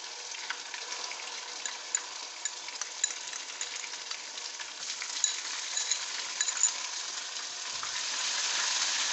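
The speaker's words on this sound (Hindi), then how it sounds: "इसको भी 1-2 मिनट के लिए हम भूनेंगे ताकि इसका जो एक मखसूस सी स्मेल होती है वो ख़त्म हो जाए" Garlic-ginger paste frying with onions in a pan for biryani, giving a soft, continuous hiss with faint crackles and occasional light stirring, fairly quiet and without voices.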